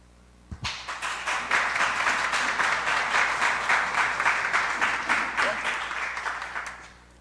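Applause from a community meeting audience for a candidate, a crowd clapping steadily after a sharp opening clap, moderately close and holding an even level for about six seconds before dropping off.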